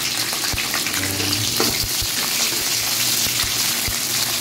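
Garlic and onion sauté in a heated pan for cauliflower beef, a loud, continuous close sizzle with occasional soft stirring knocks and no voices.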